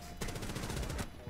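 Rapid automatic gunfire from a Rainbow Six Siege match, a loud, dense burst of shots lasting under a second, close and uninterrupted, with quieter game sounds before and after.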